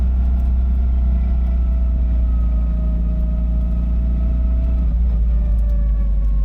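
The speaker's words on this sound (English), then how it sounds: "I can't believe I'm driving an R32 that I did everything on. It's got an SR20" A Nissan R32 fitted with an SR20 engine drives along, its steady engine drone loud and close, holding a constant pitch with a brief dip near the end and no talk over it.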